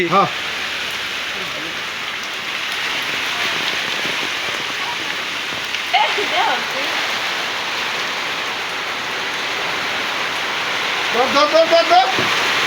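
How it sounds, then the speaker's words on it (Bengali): Heavy rain pours steadily over a village, a dense unbroken hiss of drops on surfaces for the whole stretch, with brief voices breaking through now and then. "বৃষ্টি বৃষ্টি"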